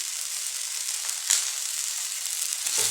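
An adai made from aval and wheat flour sizzles in oil on a pan, a close, steady hiss with a brief flare near the middle.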